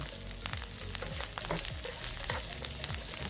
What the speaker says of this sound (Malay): Kita goreng beberapa minit sehingga bawang menjadi layu.